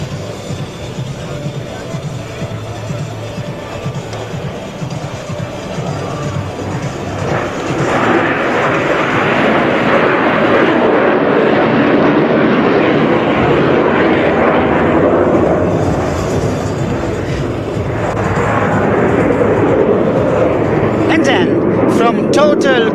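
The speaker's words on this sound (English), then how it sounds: "Here comes the slow pass. Flap down, gear out, speed trimmed to a crawl." Fixed-wing military aircraft making a slow pass with flaps down and gear extended at the NATO Days and Czech Air Force Days 2025 air show; a loud, sustained engine roar swells in the middle and holds, with a commentator talking over it.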